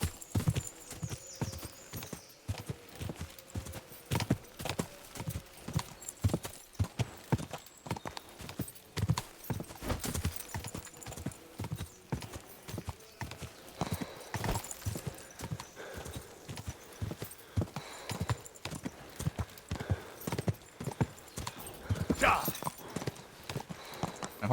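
Rapid, steady hoofbeats of a galloping horse in the video game Kingdom Come: Deliverance II clatter on and on, with an occasional whinny and someone talking over the top.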